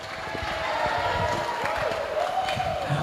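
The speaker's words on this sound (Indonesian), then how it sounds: "Tepuk tangan, tepuk tangan." A crowd at an evening Muhadharah Kubro gathering at Ponpes Darussalam Maturingkal, an Islamic boarding school, claps and cheers in a steady, fairly loud wash of noise that lasts throughout.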